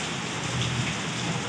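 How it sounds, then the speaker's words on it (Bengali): Heavy, steady downpour roars alongside a gusty, whooshing wind during an afternoon storm, a dense continuous hiss with a low rumble of thunder underneath. "একদম শোঁ শোঁ করে হাওয়া বইছে, সাথে মুষলধারে বৃষ্টি, মাঝে মধ্যে বাজও পড়ছে।"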